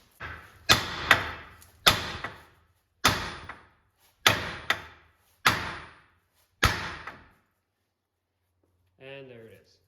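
Upper ball joint on a 2001-2010 GM heavy-duty truck being driven loose from the steering knuckle: seven loud, sharp metallic impacts with ringing decays in a steady rhythm, then a brief voice.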